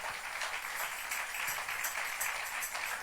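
A church congregation applauds in a dense, even wash of clapping that sounds somewhat distant and moderately quiet, sustained without a break for a few seconds.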